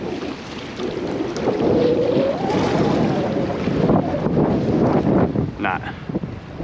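Strong gusting wind buffets the microphone on a fishing pier at Town Quay, Southampton, a steady broadband roar swelling and easing throughout, with faint voices and brief knocks beneath it.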